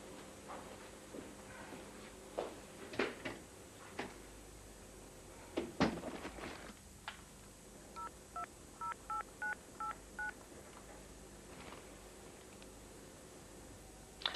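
A telephone number is dialed on a keypad, heard as a quick run of about eight short, faint tones after some quiet clatter and handling noises in a room.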